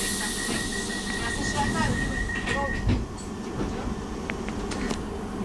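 A London Underground Piccadilly line train rumbling along the track, with wheel squeal and clatter close by, while a recorded announcement plays over the noise.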